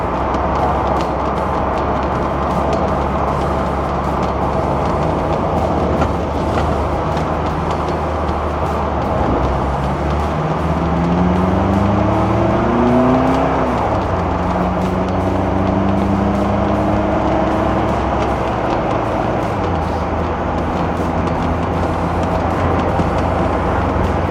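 A 2021 Toyota-powered Orion dune buggy, street legal, cruising along with a steady, loud engine and road drone, a couple of rising gear-change sweeps partway through, and no voices.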